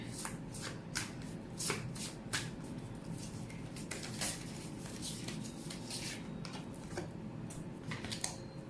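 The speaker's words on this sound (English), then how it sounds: "let's pull one from the Millennial Oracle and see" Oracle cards shuffled by hand for a tarot reading, a steady run of soft papery riffles and flicks with sharp card snaps scattered throughout, close and fairly quiet.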